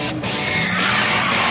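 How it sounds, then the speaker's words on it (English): A car doing an aggressive tyre burnout at a drag strip, a loud, continuous roar of engine and squealing rubber that swells slightly and holds steady for the whole short stretch. "love a nice aggressive burnout"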